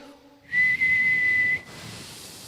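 A single sustained, steady whistled tone, loud and clear, held for about a second as an imitation of a gentle breeze, then fading to a soft airy hiss.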